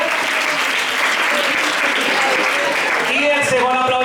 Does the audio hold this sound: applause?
yes